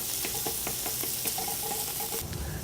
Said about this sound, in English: some ground beef. We're gonna brown that up for about a minute or so.